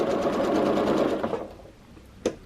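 Home sewing machine running fast during free motion quilting, a dense steady buzz of rapid stitching that stops abruptly midway, leaving quiet with a single sharp click near the end.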